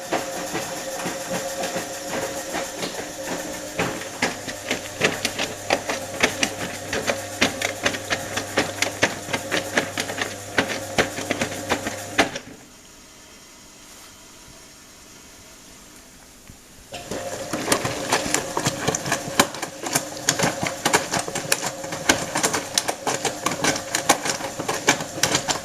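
A Brandt Stato 46 appliance runs steadily with a dense, rattling mechanical churn and rhythmic clatter, loud and close; the noise drops to a low hum for about five seconds midway, then resumes at full strength.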